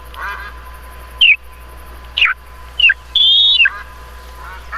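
Ducks in theHunter: Call of the Wild game on a savanna hunt give several sharp, nasal quacks, about four distinct calls in an irregular rhythm over a quiet ambient background.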